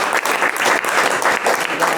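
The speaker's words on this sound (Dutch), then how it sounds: "ik wil eigenlijk wel toch Ja. een klein applaus voor Erik." A small crowd applauds Erik with steady, dense clapping that fills the whole short stretch at an even, lively level.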